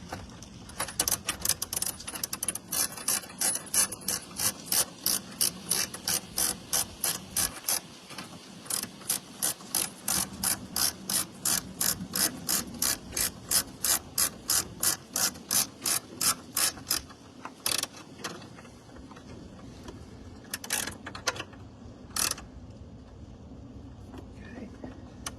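Ratchet running down a bolt during a Trackhawk catch can install, a long series of rapid, crisp clicking bursts with brief pauses between strokes, close and loud with no talking.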